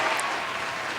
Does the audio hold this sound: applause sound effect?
yes